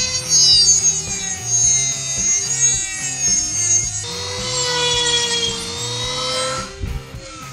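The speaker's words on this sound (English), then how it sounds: "I have to cut those off, sand them down smooth" Barbed hose nipples being cut off with a saw during a Miata turbo oil and coolant line install, a steady close rasp of sawing with shifting pitch and brief pauses, no talk.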